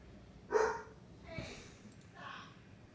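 A Labrador lets out one sharp, moderately close bark, followed by fainter, softer vocal sounds against a quiet background hiss.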